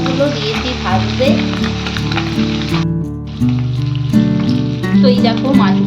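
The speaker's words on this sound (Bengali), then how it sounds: "এই যে দেখতে পাচ্ছেন বাকি অর্ধেক মোরলাগুলো দিয়েছি ভাজতে" Small mourala fish sizzle as they fry in oil, a continuous crackle beneath a loud tonal hum and background sounds, close by.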